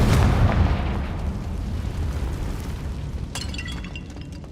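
A Confringo blasting spell from the Hogwarts Legacy video game goes off in a loud, close explosive boom, its rumble fading into sustained noise, with a brief crackling burst near the end.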